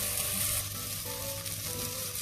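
Chopped onion sizzles steadily in a hot pan for a vegan broccoli and coconut soup, a constant close frying hiss with no voices.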